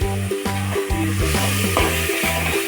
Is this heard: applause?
no